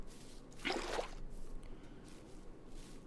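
In the Minecraft video game, a bucket pours out water in a short splashing gush. It is moderately loud against quiet background noise, followed by faint ambient sound.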